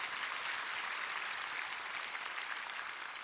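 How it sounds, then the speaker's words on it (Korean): An audience at a church prayer gathering breaks into steady, dense applause that fills the whole stretch at an even, moderate level with no voices on top. "박수 한번 쳐주세요."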